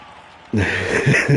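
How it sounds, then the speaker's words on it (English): A stadium crowd of racing fans roars in the F1 Manager 22 game at the Spielberg circuit, a sudden loud wash of cheering that bursts in after a quiet start and holds steady to the end. "They're cheering on Hamilton."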